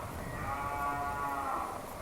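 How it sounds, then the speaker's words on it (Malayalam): A cow moos once in a village setting at dusk, a long, drawn-out, tonal low call lasting around two seconds, heard at moderate distance over a rough low background rumble. "പശുവൊക്കെ ഉണ്ട്."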